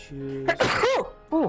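A single quick sneeze bursts out between brief spoken words from a livestreamer, sharp and close, with short voiced remarks just before and after.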